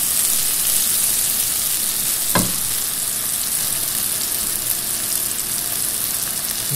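Mushrooms frying in a pan, sizzling steadily at close range, with a single brief clack near the middle and no talking.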